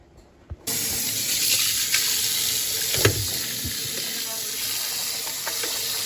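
Running ice water pours steadily from a tap into a cat's container, a continuous splashing hiss close by that starts abruptly and holds for several seconds.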